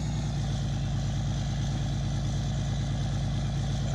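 A tractor engine idles steadily in the farming game Farming Simulator 19, a continuous low rumble with a fast, even pulse that stays loud and close throughout, with no one talking.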